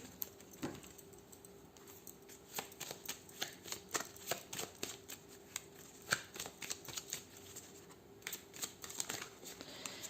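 A deck of cartomancy playing cards being shuffled close up, a rapid series of soft riffling flicks and slaps with brief pauses, quiet and without talk.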